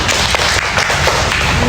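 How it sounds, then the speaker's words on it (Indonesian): An audience at a talk session on choosing credit products breaks into loud, dense applause, continuous claps crowding close together for the whole short stretch. "tepuk tangan dulu"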